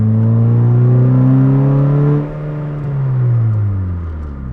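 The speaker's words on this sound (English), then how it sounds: "how the K24 doesn't rev up as quickly" A Honda Fit fitted with a K24 engine pulls hard, its engine note climbing steadily under load, then dropping off before rising again, heard loud and close from the cabin with no talking.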